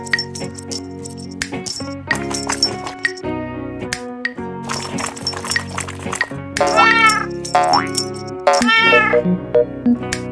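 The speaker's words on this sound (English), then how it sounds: "C is for cat." A domestic cat meows repeatedly and clearly, several separate cries set over light background music with chiming tones, the calls growing louder and more insistent toward the end.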